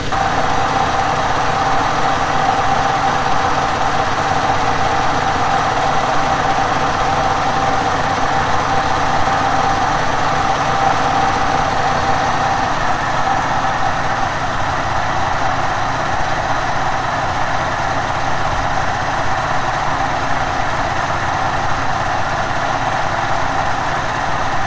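An old 12000-watt 220V electricity generator running steadily, a loud constant drone with a broad hum that holds at one level throughout, with no voices.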